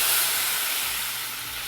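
Rasam poured into a hot tempering of dried red chillies, curry leaves and turmeric, giving a loud, close, steady sizzling hiss that eases slightly as it goes.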